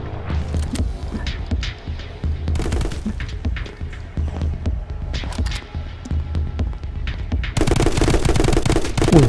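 Video game gunfire from My Friend Pedro, loud rapid bursts and single shots over a throbbing low hum, growing denser and harsher near the end.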